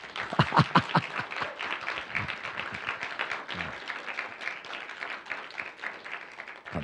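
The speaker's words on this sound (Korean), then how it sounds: "저한테도 박수 한번 주실래요?" A church congregation at a Friday worship service applauds, opening with a few sharp, loud individual claps before settling into a steady crowd patter of many hands, with a faint voice briefly underneath.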